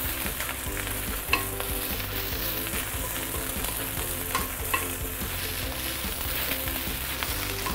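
Garlic and noodles stir-fried for Hokkien prawn mee, a loud, steady sizzle running throughout with occasional sharp clanks of the spatula against the wok, close and without talk.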